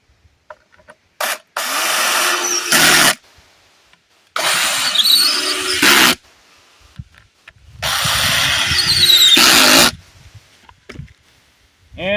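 A power drill driving sheetrock screws, three loud whirring bursts of a couple of seconds each with a rising squeal and brief quiet gaps between them, close by.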